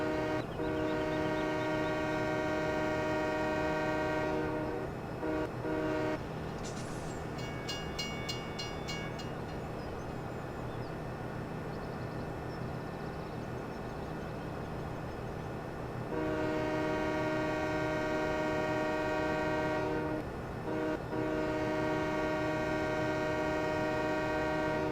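A train on a railway track in Farming Simulator rumbles steadily and loudly, its horn sounding in long sustained blasts near the start and again later, with a brief higher whistle between.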